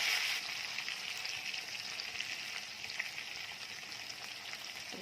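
Capsicum peppers roasting in a pan make a soft, continuous sizzle, a steady crackling hiss that stays even throughout and sits fairly faint with no talking over it.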